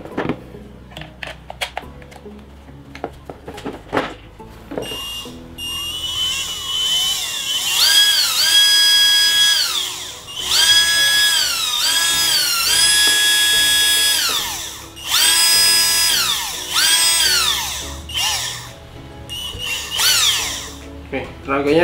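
A Xenon CDBL1845 18V cordless battery hand blower is switched on and revs up with a loud, high whining motor, rising and falling in several sustained bursts after some clicks and handling noises.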